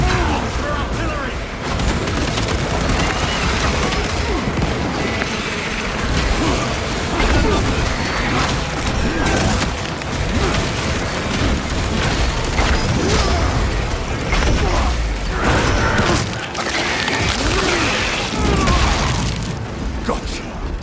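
Artillery fire in Warhammer 40K: Space Marine 2 pounds through dense, continuous battle noise, with repeated booms, crashes and mechanical clatter forming a loud, unbroken wall of combat sound, and voices can be heard within it.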